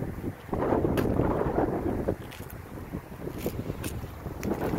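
Wind gusting outdoors near a beehive, a steady close buffeting rush against the microphone with brief stronger gusts, no voices.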